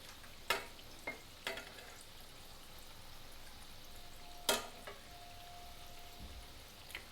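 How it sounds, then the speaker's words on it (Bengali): Dahi vada lentil fritters fry in hot oil in a kadai with a faint, steady sizzle, broken by a few sharp clicks and taps from a utensil against the pan. "এই বড়াটা ভাজতেই যা সময় লাগে একটু ধরে ধরে ভাজতে হয়"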